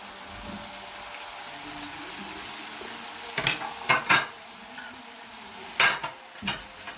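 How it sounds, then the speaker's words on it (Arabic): Onion slices and colored bell peppers sauté in a pan for shawarma, a steady sizzle underneath with several sharp scraping knocks of a spatula against the pan in the second half. "ننزل بشرايح البصل بعد كده الفلفل الالوان"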